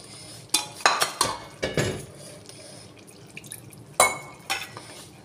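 A spice bowl is rinsed and topped up with water while cooking handi chicken: sharp clinks of metal and glass tableware and small splashes and drips come in short bursts, close and fairly loud, with no talking.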